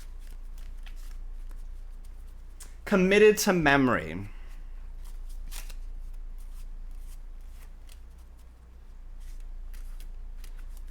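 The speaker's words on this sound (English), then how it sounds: "we'll shuffle up the deck, and I will keep shuffling until you say stop" A deck of playing cards is shuffled in a quick riffle burst of about a second, set against a quiet room, with a person talking briefly just before it.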